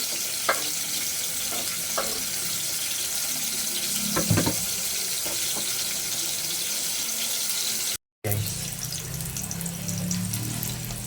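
Onion and garlic fry in a pan as a steady, dense sizzle that runs throughout, with a few faint clinks and stirring sounds and a brief dropout near the end.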